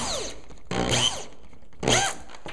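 A power drill drives structural screws through a wooden shelf cleat into wall studs, three separate whirring bursts with rising and falling pitch, fairly close, with pauses between them.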